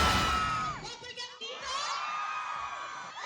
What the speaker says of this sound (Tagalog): Sinalubong ng malakas na hiyawan at tilian ang cast ng upcoming GMA's Prime Series na Never Say Die